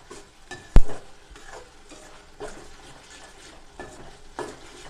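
Spicy gravy frying in oil until the oil separates, with a soft, steady sizzle, occasional stirring scrapes and one sharp utensil knock against the pan near the start.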